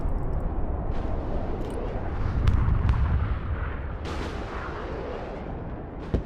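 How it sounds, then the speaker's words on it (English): Rumbling airstrike explosions roll continuously in the video game Broken Arrow, a dense low booming wash with a heavier burst in the middle and sharp cracks on top. "Airstrike is go for effect."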